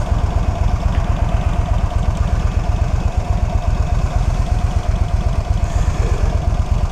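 Yamaha Stryker motorcycle engine running steadily while riding, a continuous loud low rumble with a fast pulsing throb and no speech.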